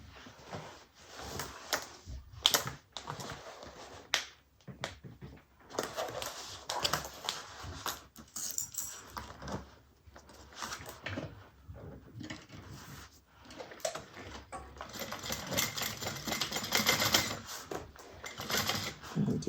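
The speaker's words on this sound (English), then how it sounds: "Let's get that sewn." A sewing machine stitches fabric for an Emma 3-in-1 bag in quiet, intermittent runs. Short bursts of stitching are broken by brief pauses and soft handling clatter.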